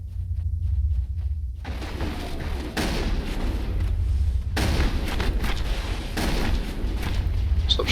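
Video game gunfire rattles in loud, dense bursts over a constant low rumble, with booming shots and blasts crowding the whole stretch and no talking.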